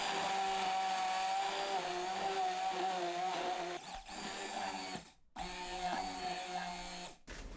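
A blender grinds yam with 250 ml of milk, steadily with a whining motor hum, pausing briefly twice before starting up again, loud and close.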